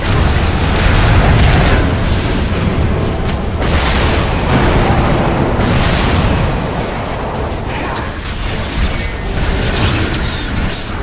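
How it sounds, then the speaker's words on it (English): Booming explosive impacts from a barracks under attack in the Dota 2 video game, a loud, dense, continuous barrage of blasts and bursts filling the whole stretch with no pauses. "Radiant's bottom barracks are under attack."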